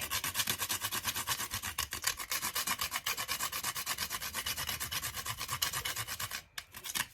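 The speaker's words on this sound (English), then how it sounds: "So I'm just gonna grate my nutmeg." Half a nutmeg grated by hand for spiced bofroat, the African fried doughnut: close, rapid rasping strokes in a steady rhythm for about six seconds, then a brief pause and a few last scrapes, with no talking.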